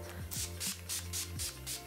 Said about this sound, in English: I'm going to be taking my Urban Decay All Nighter setting spray, and you just want to spritz this all over your face.